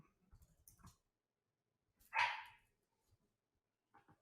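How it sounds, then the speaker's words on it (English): A dog gives a single sharp bark in the background of an indoor conversation, a short burst standing out against near silence, with faint scattered sounds before and after. "I apologize for the dog barking in the background also."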